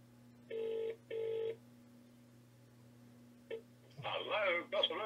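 A telephone line rings back in two short, steady buzzing bursts close together, then falls quiet over a low hum before a brief click and a voice picking up at the end.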